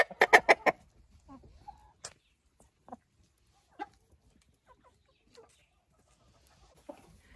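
Hens cluck inside a chicken coop, a quick burst of several sharp clucks at the start, then scattered faint calls and soft rustles spread over the quiet stretch that follows.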